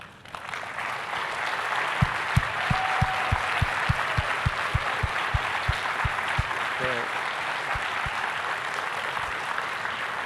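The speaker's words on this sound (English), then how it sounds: "we want to do a round of applause" A round of applause from a conference audience at a closing keynote, sustained dense clapping across the whole stretch, with a few sharp louder claps standing out near the front.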